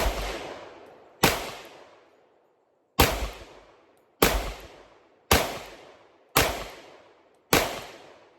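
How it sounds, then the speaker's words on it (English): An FN 510 pistol fires seven loud, sharp shots outdoors in the woods, spaced about a second apart with a pause after the first. Each crack decays quickly into quiet. "I guess that makes 100 rounds through this gun today"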